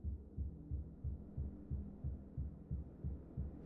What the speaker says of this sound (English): Feel like I can hear a heartbeat.